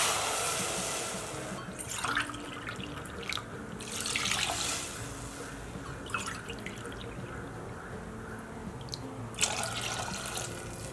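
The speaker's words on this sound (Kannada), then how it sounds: "ಈಗ ನೀರು ಹಾಕ್ಕೊಳ್ಳೋಣ" Water is poured into a cooking pot for one-pot rasam rice, a soft continuous splashing and trickling with a few louder gushes, fairly faint and close with no talking.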